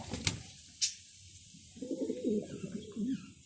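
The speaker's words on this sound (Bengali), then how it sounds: "দেখতে পাচ্ছেন আমার কবুতরগুলো" Pigeons kept on a balcony give low, soft coos in a repeating burst near the end, with a couple of sharp clicks just before and quiet surroundings.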